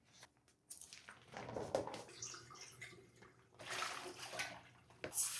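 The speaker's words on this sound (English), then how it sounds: "And now we're rinsing, just fill with fresh water." Laundry being rinsed by hand in fresh water in a hotel room. Close sloshing, squishing and splashing continue throughout, with no talking.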